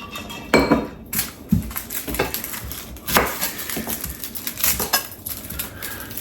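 A kitchen knife chops a very small sweet onion on a board, giving irregular sharp taps and knocks close up, mixed with light clattering of utensils.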